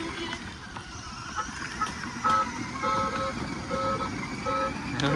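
A vehicle goes by on a road near a temple, its engine rumble rising and fading while short horn toots sound at intervals, with faint outdoor background and occasional voices.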